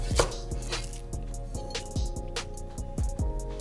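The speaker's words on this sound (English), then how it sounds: "I love adding fresh scallions, which we're just gonna give a quick chop." Fresh scallions chopped with a knife on a board, a quick run of sharp, evenly spaced thuds, close and clear, with no talking.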